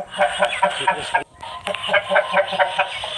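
A Kakideka fighting rooster, a one-time winner, clucks in quick repeated bursts close by, broken by a brief pause, with faint talk in the background.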